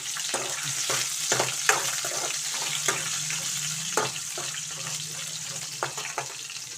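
Onion and green chillies frying in a pan for a moong dal and ridge gourd dish, a steady close sizzle with intermittent clinks and stirring scrapes throughout.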